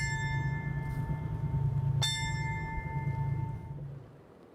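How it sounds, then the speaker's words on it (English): A ship's bell struck twice in a two-bell memorial ceremony aboard the USS Midway for Pearl Harbor, two clear ringing strikes about two seconds apart, each decaying slowly over a low steady hum. "what you heard there was the two-bell ceremony"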